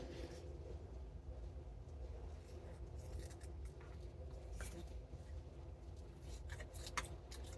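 Quiet, close snips and crisp paper rustles as a small paper sentiment label is trimmed with scissors, several brief cuts scattered over a faint low background hum.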